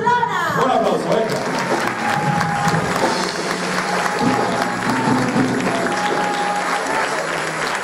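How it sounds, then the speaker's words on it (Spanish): Sustained applause from a carnival audience greeting the murga group Burlonas on stage at a César Manrique cultural carnival event, dense and steady from start to finish with crowd noise mixed in. "Un aplauso, venga."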